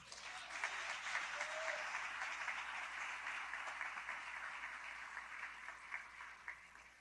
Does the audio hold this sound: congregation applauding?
yes